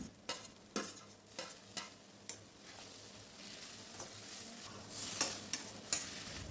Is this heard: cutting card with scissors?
no